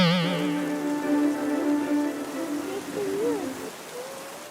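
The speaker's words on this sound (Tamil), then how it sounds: "மழை பெய்யுது." Steady rain falls during a heavy downpour in Chennai, a continuous hiss with a voice carrying tonal sounds over it in the first seconds.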